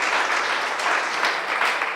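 A church congregation at an evangelical service applauds for a newly baptized member, a loud, dense and even wash of clapping that holds steady throughout the brief moment.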